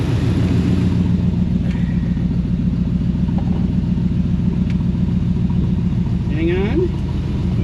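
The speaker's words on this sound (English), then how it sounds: "Let's bring the RPMs up a little bit on it. See what it does when we do a gentle sweep." An engine fitted with an EFI conversion runs loud and close in a steady, throbbing rumble, revving only slightly in a gentle sweep, with a voice briefly audible over it.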